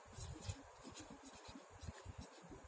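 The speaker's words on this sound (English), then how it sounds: "here I am going to write" Chalk or a marker scratching across a board during an English grammar lesson, quick rhythmic strokes in short bursts, faint and close, with no one speaking.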